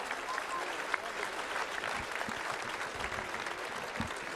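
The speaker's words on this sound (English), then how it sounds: "Please, big applause." Crowd applause at a fight-event decision, a steady dense wash of clapping from a sizable audience that continues evenly throughout.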